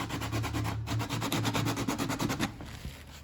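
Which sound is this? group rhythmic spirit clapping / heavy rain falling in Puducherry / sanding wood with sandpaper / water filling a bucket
sanding wood with sandpaper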